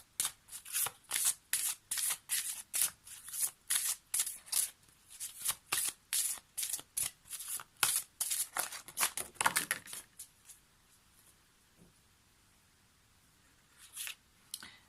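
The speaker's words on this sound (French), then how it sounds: "on va terminer du coup ce tirage avec une carte issue de l'oracle d'Aradia" Oracle cards shuffled by hand for a tarot reading, giving rapid, close papery riffles in a steady rhythm for about ten seconds, then a quiet pause with a brief final flutter.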